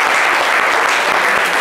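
A studio audience bursts into steady, dense applause, loud and close, with a continuous wash of clapping filling the whole moment.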